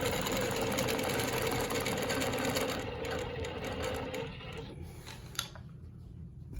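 A custom longarm quilting machine stitches a Baptist fan pattern, giving a steady close mechanical whir with dense rapid needle rhythm that carries on and then tapers off near the end, with one brief click.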